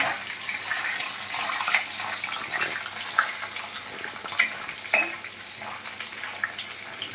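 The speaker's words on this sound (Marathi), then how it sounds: "लालसर गोल्डन कलर होईपर्यंत पनीर घ्यायचं भाजून फ्राय करून असं" Paneer pieces fry in a pan until golden, giving a continuous soft sizzle with scattered crackles and occasional clinks of a utensil against the pan.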